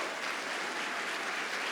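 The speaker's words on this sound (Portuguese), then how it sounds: "Você pode aplaudir o Senhor?" Steady applause from a church congregation, dense clapping that holds at an even level throughout with no voices.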